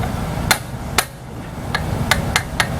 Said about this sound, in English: I've got my old impact here. Make sure it's set for unscrewing and not screwing.